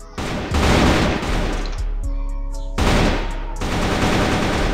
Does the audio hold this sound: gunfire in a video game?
yes